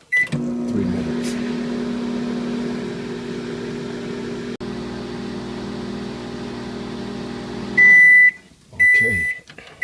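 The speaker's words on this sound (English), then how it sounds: "Stick it in the microwave." A kitchen microwave oven heats grits and sausage for three minutes, humming steadily and loudly for several seconds, then goes quiet and gives two bright electronic beeps about a second apart.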